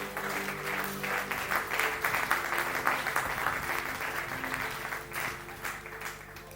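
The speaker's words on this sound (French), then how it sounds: "Est-ce que tu peux acclamer pour le Seigneur?" A church congregation at a Sunday service applauds for the Lord, steady sustained clapping from many hands filling the room, swelling then tapering off slightly toward the end.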